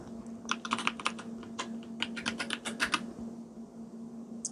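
Keys clatter on a computer keyboard as a database connection string is typed, two dense bursts of quick clicks over a steady low electrical hum, close and moderately quiet, with no speech.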